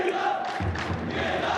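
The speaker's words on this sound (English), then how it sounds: "Drums there's the drums." Fans beat drums amid a loud arena crowd at a Rocket League esports event, a dense roar with a low rhythmic thumping that comes in partway through the clip.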